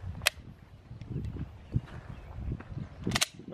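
Two sharp cracks from a Glock 19 pistol fired into a hay bale outdoors, one near the start and one later, separated by quieter rustling and low thumps.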